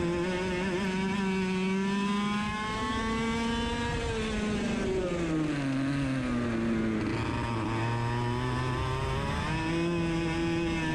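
A racing kart's engine on a dry track drones loudly and continuously, its pitch sagging and wavering as the kart slows into a corner, with no talk over it.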